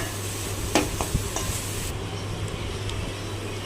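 Broccoli, carrot and beans stir-fry being stirred in a pan, with a steady sizzle and a few light scraping clinks over a low hum, close by.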